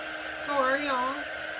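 A hair dryer blows over wet paint with a steady airy hum that rises briefly in pitch midway as a voice speaks faintly beneath it.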